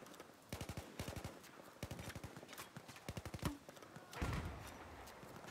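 Gunfire from a grenade launcher in the Battlefield 4 video game, rapid bursts of sharp repeated shots in a quick rhythm, then a louder blast near the end, all fairly faint.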